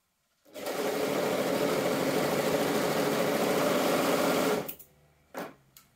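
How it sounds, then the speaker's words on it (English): A sewing machine stitches the front section of dragon cosplay hood pieces in stretch fabric, a steady, dense whirr running for about four seconds before stopping, then a couple of brief handling clicks. "We're going to stitch that same short section at the front"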